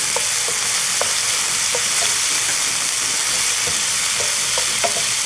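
Seafood stuffing mixture with Worcestershire sauce sautés in a pan, giving a constant, close, bright sizzle with small pops and crackles throughout.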